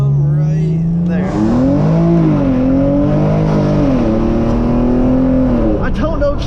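A tuned Genesis Coupe 3.8 with traction control off launches hard in first gear from about 3,500 rpm, its loud, close engine note climbing and wavering at full throttle; someone talks briefly near the end.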